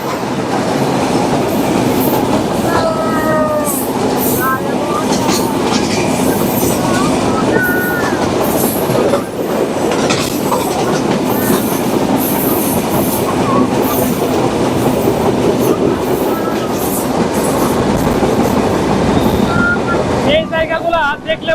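The Chilahati Express rumbles steadily along its rails in a loud, continuous roar with clickety-clack beats and occasional wheel squeals, heard from on board while people talk.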